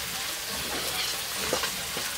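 Fish fries in hot oil in a pan, producing a continuous, even sizzle with occasional sharper pops and spatters, close and steady throughout, without any talking.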